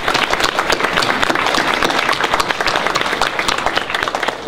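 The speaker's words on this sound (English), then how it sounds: "a round of applause for Audrey" Audience applause at a community event on children's environments, a loud sustained burst of many people clapping, dense and close with crisp individual claps throughout.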